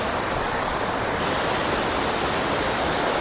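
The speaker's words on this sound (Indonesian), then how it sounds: "Tuh, air terjunnya." Waterfall and rocky mountain river on a hike, a loud, continuous broadband roar of rushing, splashing water close by with no other sounds.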